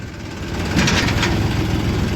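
An Escort tractor engine running at a sugar mill, a loud, continuous low rumble with steady vibration and no pauses.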